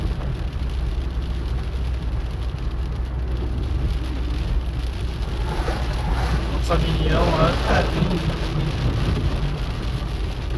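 Rain patters steadily on a car moving along the BR-116 highway in Santa Catarina, a constant close wash of drops and road rumble with a voice talking over it.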